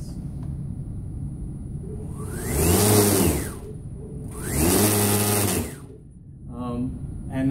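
An electric motor on a student-built college electric vehicle winds up to high RPM twice in long rising and falling whines, then spins up briefly a third time, with talk in the background.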